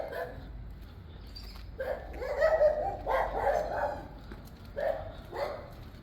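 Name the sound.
dog barking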